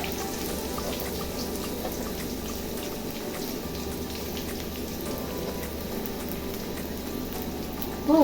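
Chopped onion sautéing in a pan for Tamil beetroot poriyal, a steady close sizzle and crackle of frying that runs evenly throughout with no talk.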